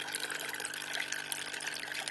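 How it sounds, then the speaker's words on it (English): Water flows through a running filter and spills over its top because the cartridge clogs easily, a steady close trickling and splashing under a constant motor hum. "When you turn the filter on, just wait, you can see the water basically just flows on top"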